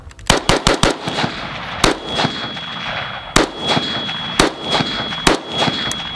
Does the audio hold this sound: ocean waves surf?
no